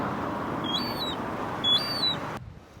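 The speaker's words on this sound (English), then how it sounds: "And the seagulls as well." Two short harsh seagull calls ring out on the cliff tops at Westgate-on-Sea, Kent, standing clearly above a steady bed of wind and distant surf before the ambience drops away at the end.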